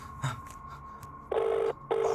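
A telephone sounds in two short, identical electronic tone bursts with a brief gap between them, following a few quiet clicks and a faint steady hum.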